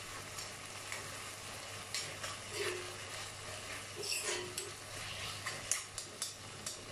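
Dry fish thokku with tomato is mixed in a pan: a faint low sizzle runs beneath soft, irregular stirring and a few light spoon taps near the end, quiet and close.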